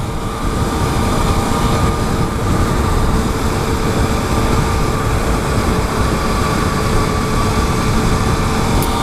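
A 2016 Yamaha FZ-09 motorcycle cruising in fifth gear, a steady, dense drone of engine and wind rumble that stays constant and loud throughout.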